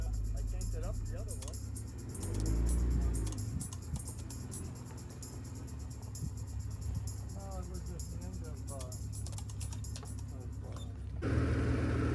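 A Jeep on the Twin Rock House trail near Patagonia, Arizona, rumbles steadily as it drives over rough ground, with a low engine drone, rattles and bumps throughout and a brief louder surge early on, while people talk over it.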